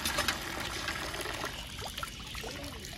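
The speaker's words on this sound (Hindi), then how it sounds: "जैसे कि आपको ये नल दिखाते हैं, इसमें काफ़ी पानी आता है" Water runs from a tap fed by an old temple well at a Shiv shrine in Himachal Pradesh, a steady close trickle and splash carrying on unbroken with no voices.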